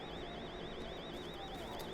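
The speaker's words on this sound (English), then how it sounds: "And the alarm's going off, so it alerts all the zombies and whatever players are in the area." An alarm sounds continuously in the zombie survival video game The Day Before, a steady warbling electronic wail that rises and falls in a fast regular cycle over a dense, noisy in-game background for the full two seconds.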